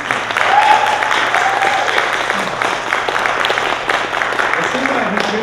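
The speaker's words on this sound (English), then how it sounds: "Can we give one more round of applause to that awesome bluegrass band?" An audience applauds a bluegrass band at a college music showcase, a steady wash of clapping from a crowd, with a voice speaking over it.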